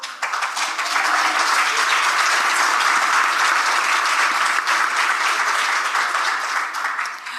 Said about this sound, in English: I hope you heard the loud applause that you just received for your first comments.